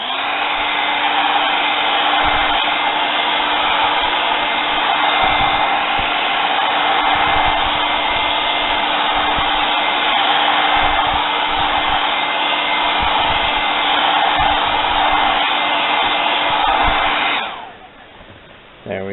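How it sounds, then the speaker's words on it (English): A blow dryer runs loud and steady for about seventeen seconds, drying acrylic paint on a cactus painting, then cuts off abruptly near the end. "the blow dryer is actually my means of getting my paint dry so that I can work on it"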